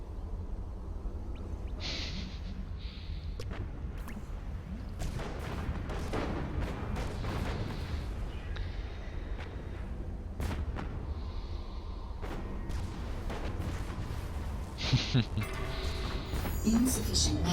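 Artillery fire from the strategy video game Planetary Annihilation, with repeated booming shots scattered across the clip over a dense battle din, with a person talking over it.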